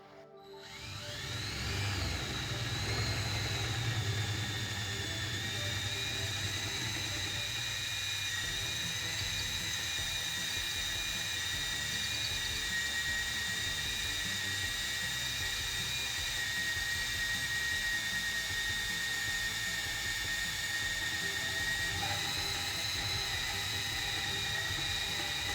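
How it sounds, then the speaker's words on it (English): A power drill whines continuously at steady speed for a long stretch, close and fairly loud, with no voices, drilling a 1/4 inch hole for Honda Fit spoiler risers. "And I'm going to drill a 1/4 inch hole."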